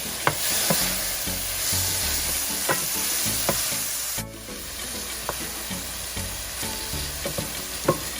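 Onion, chopped garlic and tomatoes cooking in a pan for a coconut curry with mahi-mahi, giving a loud steady sizzle and hiss with regular knocks and scrapes of stirring, close up and without talk.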